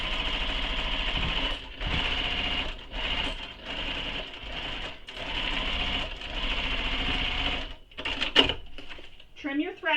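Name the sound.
sewing machine stitching bag with foam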